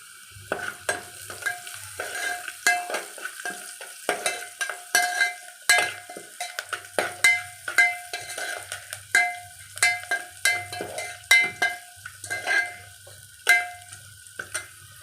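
Vegetables sizzle in a frying pan with salt and turmeric while a spoon stirs and scrapes, rhythmic metallic clinks repeating about every half second over a steady frying hiss, close and fairly loud with no talk.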